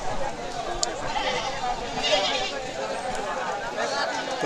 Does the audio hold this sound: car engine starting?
no